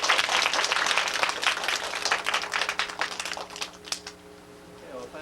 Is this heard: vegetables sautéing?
no